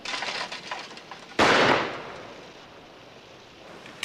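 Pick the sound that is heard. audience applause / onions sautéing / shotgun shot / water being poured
shotgun shot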